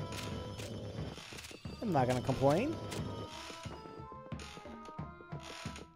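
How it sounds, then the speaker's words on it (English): A rocking horse in the Luigi's Mansion: Dark Moon game creaks and neighs loudly in a burst near the middle, with rhythmic mechanical clip-clop creaking around it while someone talks over the game sound. "That rocking horse is super loud,"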